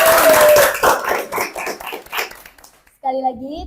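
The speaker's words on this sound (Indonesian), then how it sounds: "Tepuk tangan." A group of children claps for about two and a half seconds, in loose uneven bursts that fade out before a voice speaks.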